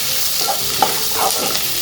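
Garlic frying in a pan until golden brown while an eggplant gravy is prepared, giving a steady close sizzle broken by a few soft stirring scrapes, with no talking.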